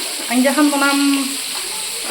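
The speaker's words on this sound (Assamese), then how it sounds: "এতিয়া মই ইয়াত মাছ ভাজিবলৈ দিছোঁ।" Fish frying in a pan gives off a steady, close sizzle with crackling spatters throughout, and a voice is briefly heard over it near the start.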